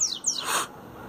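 A coleiro, or double-collared seedeater, sings a short run of bright, quick descending whistled notes, close and clear against a quiet background, with no talking.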